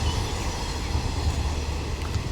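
A train rolls past on rail, giving a continuous broad rumble and rushing noise at steady, fairly close loudness with no voices over it.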